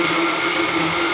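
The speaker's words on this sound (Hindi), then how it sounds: "अब मैं ब्लेंडर के जग में डाल के ब्लेंड कर लूँगी।" A blender whirs steadily in its jug, blending a strawberry milkshake made with milk and cream. The motor drone is loud, continuous and close, with no voices.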